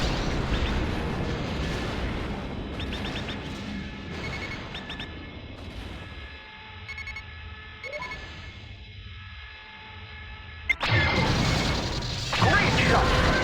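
Heavy crashing impacts and booming artillery-like blasts from a naval battle video game as a ship takes gunfire hits, loud and continuous with a brief lull before a sharp crash and renewed barrage, with voices over it.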